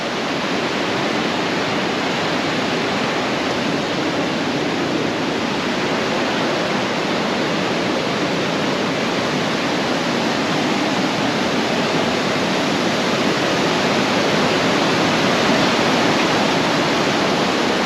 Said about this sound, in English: look at the how the water's flowing over this rock here